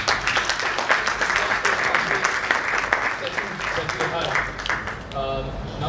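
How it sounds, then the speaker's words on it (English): Audience applause in a conference hall, a steady, full wash of clapping lasting several seconds at even volume, with some talk mixed in underneath. "Please, a round of applause, please."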